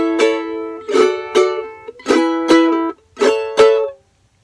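Charango plucking a melodic phrase from the Venezuelan tune Alma Llanera, bright strummed and picked notes in about six distinct attacks with short gaps, close and clear, no talking.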